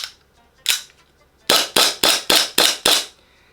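An EMG 2011 Staccato gas blowback airsoft pistol fires one sharp snapping shot, pauses, then lets off five quick shots in an even rhythm, each a loud, close crack with a short hiss of gas.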